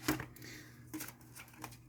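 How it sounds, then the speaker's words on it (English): Tarot cards shuffled by hand during a Celtic cross reading, a few soft riffling bursts with pauses between, close and quiet. "I'm going to shuffle more"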